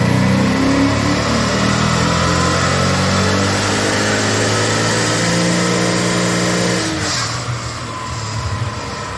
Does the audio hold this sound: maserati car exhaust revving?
yes